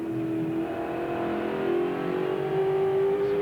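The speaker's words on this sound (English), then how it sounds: "Back down the gears, just 3rd gear." Touring car engine at the Bathurst racetrack during 1995 qualifying, held in third gear as it comes down the gears: a loud, steady, close engine drone with strong harmonics that rises slightly in pitch toward the end.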